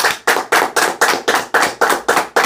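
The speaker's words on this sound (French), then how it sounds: "Applaudissons pour le Seigneur." A church congregation claps in unison, loud sharp beats falling in a steady quick rhythm about four times a second, with no voices over them.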